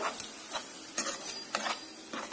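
A spoon scrapes through brinjal curry in a pan after water has been added, making four or five short, rhythmic stirring strokes over a soft background sizzle.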